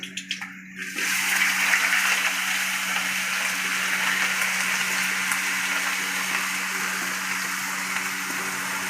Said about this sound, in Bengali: চালটা দিয়ে আমি মিনিট পাঁচেকের মতো খুব ভালো করে ভেজে নেবো